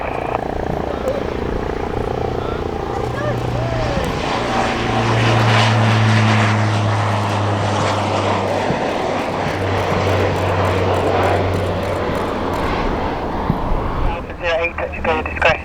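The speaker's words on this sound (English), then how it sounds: "That might be the aircraft" Light propeller aircraft engine drones steadily at Cotswold Airport, a loud sustained hum with shifting pitch, while radio-style voices talk over it.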